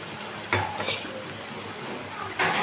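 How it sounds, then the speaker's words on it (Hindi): Goat liver (kaleji) stir-fried in a pan for a spiced bhuni kaleji, a steady close sizzle with two sharper bursts of stirring or scraping partway through. "हाँ, तो यहाँ हमें 5 से 6 मिनट हो गए हैं इसको भूनते हुए कलेजी को"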